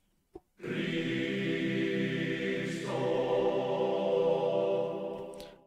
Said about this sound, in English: So the male choir sounds like this.